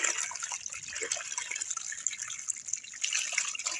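Live koi and shingi fish are tipped out along with their water, producing a soft, continuous pour and splash with small drips, fairly quiet and close.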